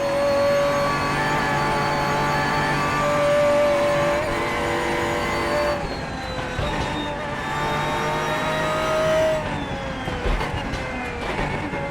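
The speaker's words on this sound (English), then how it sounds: "This is a phenomenal sounding engine." A modded race car engine in a sim racing game screams loudly and continuously, its pitch climbing through the gears with sharp drops at each upshift, heard alone without talk.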